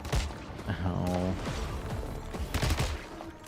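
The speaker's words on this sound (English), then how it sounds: "Yeah, you're supposed to shoot him." Gunfire in the video game Once Human, a burst of rapid shots mixed with game sounds while a player talks over it.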